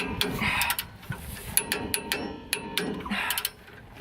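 A ratcheting wrench clicks in quick bursts against a tight bolt while rotors are changed on an RV, the close metallic ratchet pawl rattling in uneven runs with short pauses between strokes.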